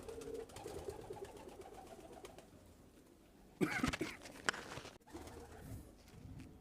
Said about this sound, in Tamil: இந்த புறாவோட பேர் வந்து ஆர்கேஞ்சல்